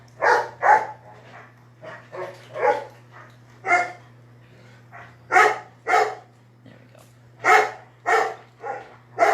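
Several dogs bark in repeated loud bursts close by, the barks coming in uneven clusters across the whole stretch, with a steady low hum underneath and a brief spoken phrase.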